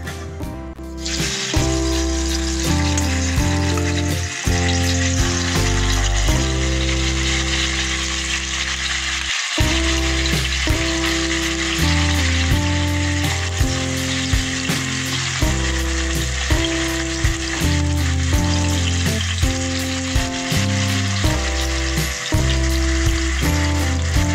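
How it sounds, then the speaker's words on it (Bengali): Pieces of taro root frying in mustard oil in a wok, a loud, dense, continuous sizzle with bubbling crackle heard up close, joined by music throughout. "এবারে আমি কচুগুলোকে তেলের মধ্যে ভেজে নিচ্ছি। কড়াইতে দিয়েছি সর্ষের তেল"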